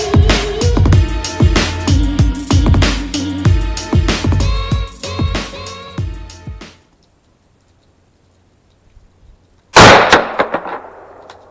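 An AR-15 hunting rifle chambered in 6.5 Grendel: a single loud, close shot with a ringing decay breaks a quiet stretch, after a run of rapid percussive cracks mixed with tonal, music-like sounds.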